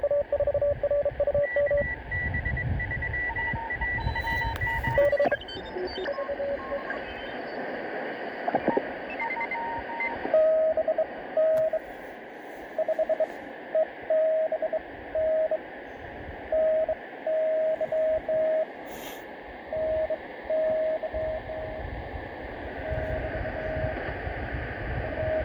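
Morse code on the 3.529 MHz shortwave band, received on a Satellit 750 portable radio fed by a 50 ft extension cord antenna: steady keyed tone beeps in rhythmic bursts over a hissing, crackling noise floor, with a second fainter tone early on.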